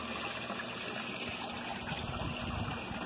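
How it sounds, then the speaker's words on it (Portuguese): Water runs steadily from a pipe into a tilapia tank built from a water tank, a continuous close splashing gush with no talk over it. "a água entra aqui e lá dentro tem um cano que solta essa água mais ou menos aqui assim"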